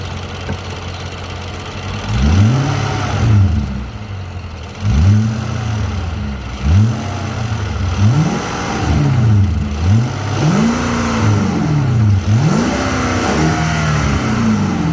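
A Ford Mustang 5.0 V8 fitted with an X-pipe and a K&N intake, loud and close, is blipped through a series of quick revs. Each rev rises and falls back to a rumbling idle with no talking.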